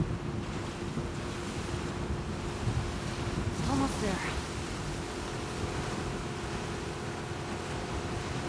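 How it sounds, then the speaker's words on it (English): Huge ocean waves roll and wash steadily in The Last of Us Part II, a continuous loud rushing surf with wind noise throughout and a brief swell in the middle. "These waves are huge."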